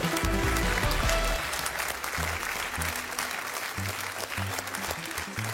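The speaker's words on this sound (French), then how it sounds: "j'aime beaucoup votre façon d'applaudir" A television game-show studio audience claps for an arriving contestant, a broad wash of applause that starts strong, then thins and fades as low musical tones and voices come through beneath it.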